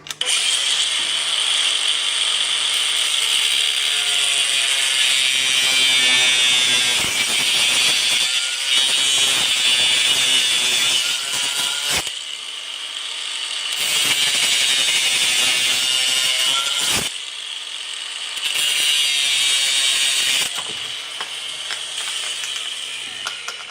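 An electric cutter runs loud and close with a harsh, buzzing, rattling whine, cutting in several long passes separated by brief pauses.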